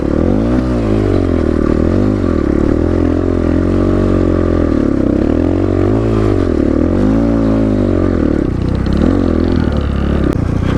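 A GPX Moto FSE 250e motorcycle rides off at Five Mile Pass. Its loud, close engine drones steadily, rising and falling in pitch as it revs and shifts, with rattly clatter from the ride throughout.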